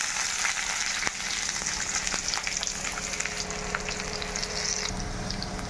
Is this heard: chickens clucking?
no